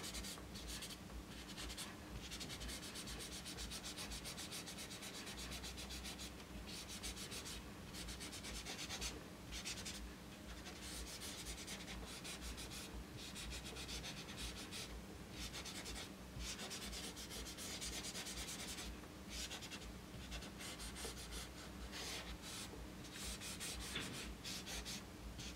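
A folded tissue rubs colored drawing pigment into paper on a white fur drawing, producing a steady, close, soft scuffing and brushing that continues throughout without talk.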